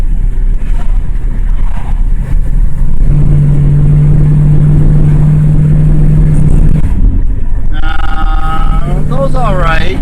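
A 1965 Ford Mustang with an automatic transmission, revived after 25 years, drives with a loud, rumbling engine drone that rises in pitch midway, while a person talks over it near the end.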